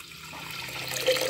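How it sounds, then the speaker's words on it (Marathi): Water poured from a small pot into a pressure cooker holding roasted moong dal, a faint brief splash and trickle that grows slightly louder toward the end. "आता कुकरमध्ये पाणी घालते अर्धा तांब्या"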